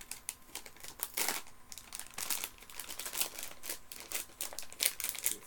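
A resealable plastic bag of Terry's chocolate orange bits crinkles close up in quick, irregular rustling bursts, faint and without talk.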